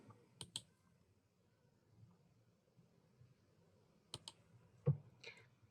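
Mouse clicks in Cisco Packet Tracer while picking a switch and a router: two quick pairs of faint, sharp clicks, one near the start and one past the four-second mark, against a quiet background hum.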